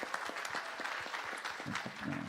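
A small audience at a film cast Q&A applauds, with individual claps distinct and rhythmic amid a moderate, fairly distant crowd clapping that holds steady throughout.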